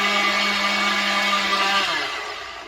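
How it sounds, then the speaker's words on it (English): A kitchen blender whirs steadily as it purées cabbage with a little water, a loud, close, even motor whine that drops in pitch and fades as the machine is switched off near the end. "I'll go back to the other side where I continue to blend the rest of the cabbage."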